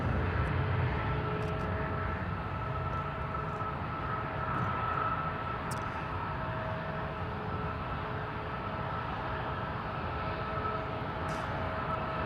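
Embraer E-175 jet airliner at Seattle airport, a steady, continuous broadband engine roar that holds evenly throughout, heard from a moderate distance with no voices.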